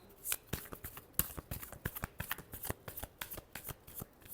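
Tarot cards being shuffled by hand, a rapid run of crisp riffling flicks and slaps close up, quiet and rhythmic without talk.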